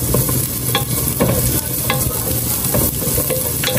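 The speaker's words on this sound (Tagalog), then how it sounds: "Lalagay na rin po natin tong carrots" Carrots sizzle in a frying pan with sautéed garlic and onion. The frying is loud and constant, and a utensil scrapes and stirs against the pan in repeated close strokes.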